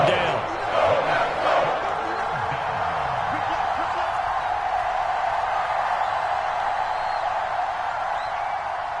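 Stadium crowd in the Madden 22 football video game roaring ahead of a big third down, loud and swelling at first with shouts and whoops, then settling into a sustained broad crowd rumble under a commentator's voice.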